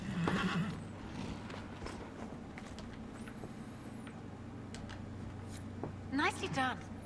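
A horse in the Dragon Age: Inquisition video game neighs and whinnies over soft clip-clopping hooves and a steady low hum, with a second whinny rising near the end.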